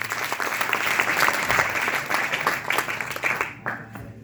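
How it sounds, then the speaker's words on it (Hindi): An audience in a hall applauds again, with thick, sustained clapping that thins out and fades near the end. "एक बार और तालियां हो जाए।"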